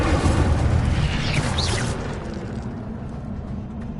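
A fiery Incendio spell bursts in Hogwarts Legacy with a loud, close whooshing boom of flame that roars at full strength for about two seconds, then settles into a lower rumbling hiss.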